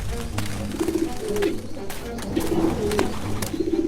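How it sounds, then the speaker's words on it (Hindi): A pigeon that has fallen to the ground coos in short repeated phrases close by, with scattered rustles and faint background noise around it. "एक कबूतर बुरी तरह जमीन पर गिरा और फड़फड़ा रहा था"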